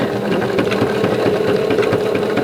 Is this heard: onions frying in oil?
no